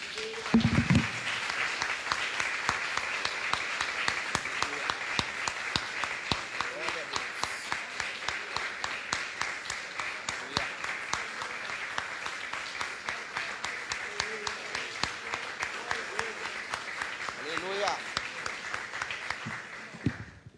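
Long sustained applause from a large church congregation, steady rapid clapping throughout with a voice briefly audible near the start and some sharper claps standing out.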